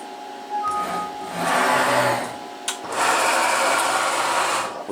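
A CNC router spindle on a Mach3-controlled machine cuts steadily, with rasping, whirring machining noise that swells and eases in two long passes, close and fairly loud, with no talk.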